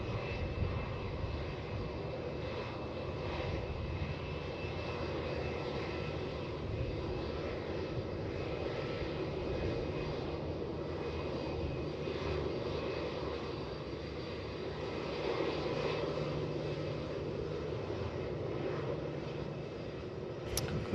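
An airliner taking off from runway 16 at Melbourne Airport, a steady broad engine roar holding at constant strength throughout, distant rather than close, with no voices over it.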